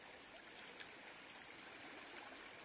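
A river in Bahia runs in heavy flood after strong rain, a steady, dense rush of muddy water that fills the whole clip at an even level, with no voices.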